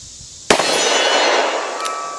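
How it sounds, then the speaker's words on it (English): A Smith & Wesson 629-4 .44 Magnum revolver fires one loud, sharp shot, and a bright metallic ring from the round striking a steel target follows and decays over about a second and a half, with a faint second ping near the end. "let me shoot some steel"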